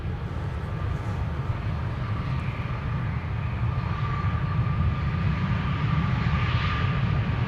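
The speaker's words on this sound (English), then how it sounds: "On the mic, you will pick up the sound of the engines of the A330-200 from SAS Cargo." SAS Cargo Airbus A330-200 jet engines turning on an airport taxiway, a continuous loud low roar with steady whine, heard from a distance without any voices.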